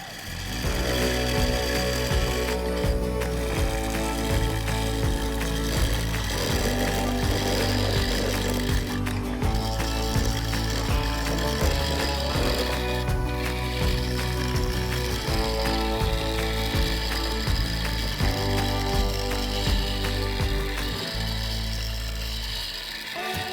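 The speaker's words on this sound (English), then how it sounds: "This was followed by lots of shear scraping to curve the base into the side." A wood lathe spins as a tool shear-scrapes a very dry oak block fruit bowl with lots of end grain. The steady loud machine hum runs throughout, with a rough rhythmic scraping and chatter layered over it.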